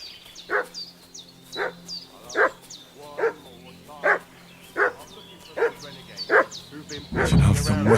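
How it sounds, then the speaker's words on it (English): A dog in the video game Kingdom Come: Deliverance 2 gives about ten sharp, evenly spaced barks, loud and close, against a quiet low hum, before a burst of louder noise at the end. "What's that dog making such a fuss about?"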